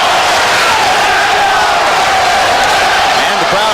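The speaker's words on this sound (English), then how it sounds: "And the crowd at ringside chanting, Zeljko, Zeljko." A ringside boxing crowd at the Lennox Lewis versus Zeljko Mavrovic fight chants Zeljko, a loud, dense roar of massed voices that stays close and constant without a break.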